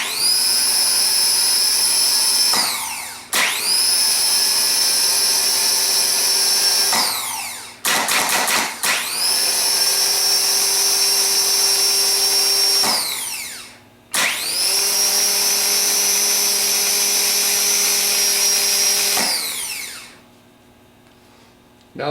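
A rebuilt Ford PMGR starter motor run on the bench several times, each run a loud high-pitched whine that holds steady for a few seconds, then winds down as it coasts to a stop between runs.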